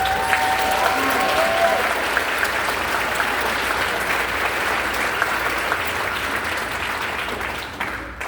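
Broad, even applause from a gala audience at a charity courage gala, sustained for several seconds before tapering slightly near the end, with faint voices mixed in.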